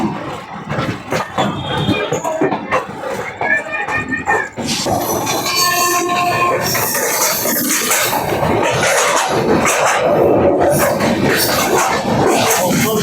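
The Darjeeling Mail train rolls into Dum Dum station with loud, close rumble, clatter and brief squeals, a continuous roar of wheels and carriages that builds toward the end.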